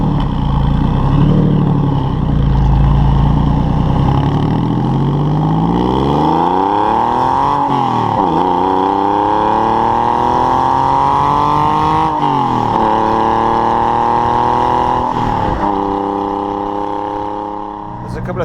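A Porsche 911 996 engine while driving: a loud, close engine note climbs steadily in pitch as it revs through the gears, with brief dips at each shift before rising again.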